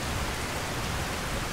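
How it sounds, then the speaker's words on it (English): Steady rain falls in Skyrim, the fantasy video game, a dense, even hiss of drops on surfaces that runs unbroken and fairly loud throughout the short stretch, with no voices. "Not necessarily feeling it right now, considering it's raining and kind of awful."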